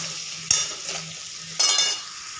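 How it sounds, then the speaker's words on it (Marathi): Vegetables for veg pulao sautéing in a pan with salt, giving a steady sizzle broken by two sharp spatula scrapes and clanks against the pan. "परतून घ्यायचं भाज्या सगळं व्यवस्थित."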